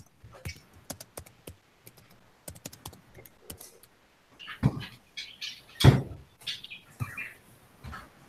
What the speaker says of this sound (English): Oh, is somebody typing? I hear typing.